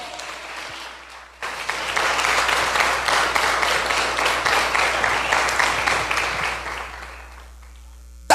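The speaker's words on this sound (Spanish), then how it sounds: "Dale un aplauso fuerte al Rey" An audience at a church service claps loudly after a short quiet stretch, the applause building fast and then holding steady and dense for several seconds before tapering off near the end.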